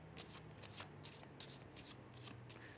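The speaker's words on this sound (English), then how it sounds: "One more, just so you can see they're well shuffled." Tarot cards are shuffled by hand up close, producing a run of quiet, crisp papery riffles and slaps at a fairly regular pace, with no voices.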